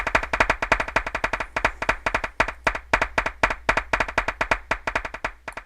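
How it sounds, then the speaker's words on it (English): A small audience claps for a speaker at the close of a Web 2.0 and semantic web talk: a fairly sparse, rhythmic patter of individual hands, close and clear, holding steady for several seconds with no voices. "That's a little bit of an applause for you."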